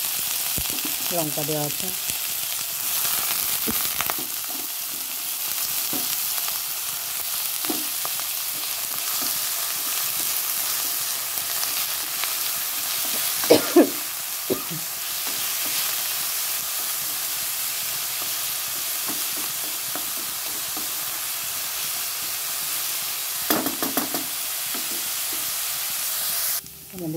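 Bottle gourd peels fry in a hot pan with a steady loud sizzle and hiss, with occasional scraping stirs, while a voice speaks briefly over the cooking.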